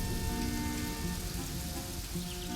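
Steady rain falling, a dense continuous hiss of drops on surfaces with low rumble beneath, even and unbroken over the short stretch with no voices.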